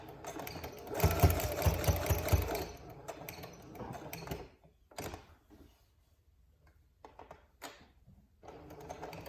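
A sewing machine stitches a gusher pad in a short, fast burst of needle strokes, then slows near the edge into brief intermittent runs with clicks and pauses between them.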